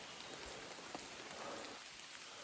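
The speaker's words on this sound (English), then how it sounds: "Well, a rainy morning actually" Rain falls steadily on a wet morning along the Appalachian Trail near Spaulding Mountain in Maine, a soft, even hiss of drops on surfaces with a few louder individual taps, and no one speaks.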